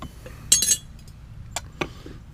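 Glass and china items clink as they are handled in a garage of scrap, a bright cluster of chinks followed by a few lighter taps against a quiet background.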